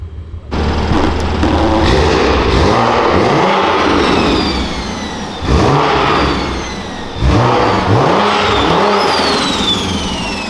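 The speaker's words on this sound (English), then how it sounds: "Single turbo S55, you can't beat the sound." Loud, close revving from a single-turbo BMW F80 with an S55 engine, the exhaust rising in several sharp bursts and sweeping pitch, with turbo whine on top and no talking.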